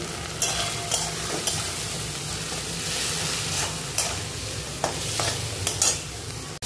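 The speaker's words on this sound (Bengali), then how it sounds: "মশলাটা ভাজা হয়ে গেছে ভালোভাবে" Ground spices with chilli and cumin paste fry in oil while a spoon stirs and scrapes through them, a steady close sizzle broken by repeated clinks and scraping strokes, without any speech.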